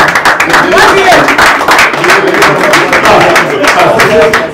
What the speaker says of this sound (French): On les applaudit très très fort, mesdames et messieurs